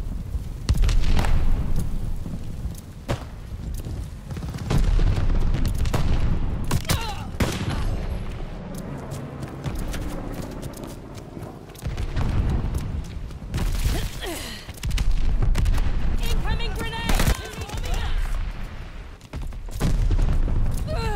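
Continuous heavy booms and explosions from a mortar barrage in the video game Call of Duty: Vanguard, layered with gunfire, loud and sustained with repeated blasts throughout.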